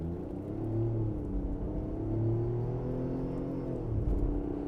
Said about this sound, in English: you're certainly going to hear the engine noise